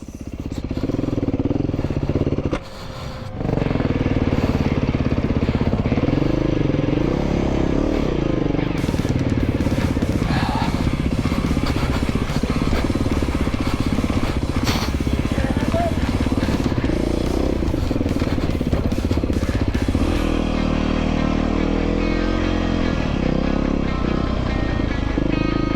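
An enduro motorcycle climbs high-elevation mountain trail near Kennedy Meadows, its engine droning loud and continuous throughout, revving and straining over rough terrain with clattering, and a brief dip early on before the roar resumes.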